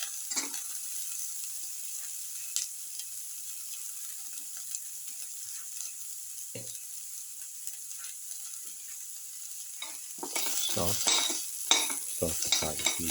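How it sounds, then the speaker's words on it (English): Garlic paste fries in a pan with a steady soft sizzle throughout. Occasional light scrapes of stirring sound along the way, and they grow busier and louder near the end. "Put in the garlic paste."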